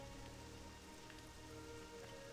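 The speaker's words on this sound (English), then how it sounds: "Oh, look, it's raining." Rain falls on a jungle in World of Warcraft Classic, a steady, even hiss of drops that fills the whole stretch with no voices over it.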